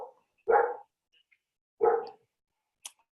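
A dog outside wanting to come in barks twice, two separate sharp woofs about a second and a half apart, fairly close and clear in an otherwise quiet room.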